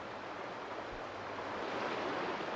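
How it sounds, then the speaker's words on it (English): A powerful Dartmoor river, swollen by many small upland streams draining the peat bogs, rushes in a steady, dense roar with no let-up, close and continuous throughout. "the trickle from the peat bogs has broadened to a powerful flow, fed by scores of small streams bursting off the upland"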